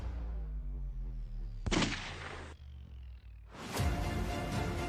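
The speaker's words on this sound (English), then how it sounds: "This video starts with an officer exchanging shots with a couple of criminals." Gunfire exchanged between a police officer and robbers in South Africa, sharp loud reports that ring out and decay, with a burst of shots near the start and another heavier volley near the end.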